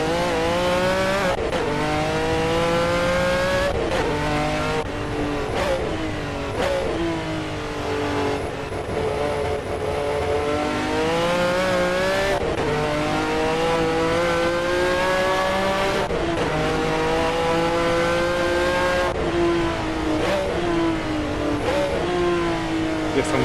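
Race cars lapping Brands Hatch in the Assetto Corsa racing game, engines revving hard and shifting up and down continuously over the whole stretch, loud and close, with no voices.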